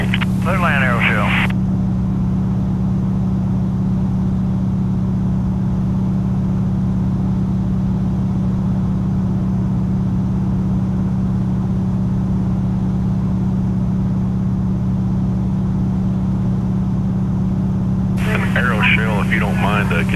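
An Aeroshell aerobatic aircraft at Sun n Fun holds a loud, steady engine drone heard from the cockpit for about twenty seconds. Brief radio voices crackle in at the start and again near the end.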